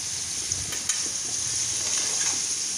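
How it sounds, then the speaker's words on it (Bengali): Cashews frying in oil for fried rice, a continuous close crackling sizzle with a couple of faint stirring knocks early on. "কাজুটা প্রথমেই দিয়ে দিলাম, কারণ কাজুটা একটু সময় লাগবে ভাজতে"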